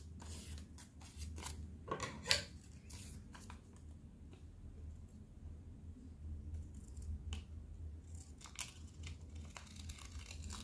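Scissors snip through a folded sheet of paper to cut a leaf pattern for an EVA foam flower, sharp crisp clicks and crinkles at an irregular pace, close and alone.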